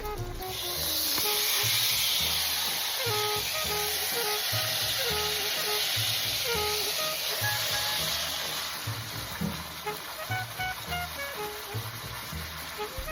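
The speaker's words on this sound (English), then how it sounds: "I'm going to take that roast and sear each side for about 6 to 7 minutes." A chuck roast sears loudly in a Dutch oven, a steady broad hiss and sizzle running throughout, close up with faint clinks and no talk.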